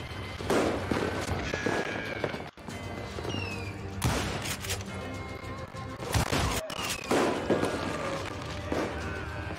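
Gunfire in the Western shooter video game Call of Juarez Gunslinger, with repeated sharp shots and crashes over a dense, continuous game soundscape of action noise.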